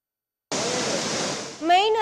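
The flooded Courtallam waterfall roars with heavy, aggressive water. It is a sudden, dense, steady rush of broadband noise, loud and continuous, and a voice begins speaking over it near the end.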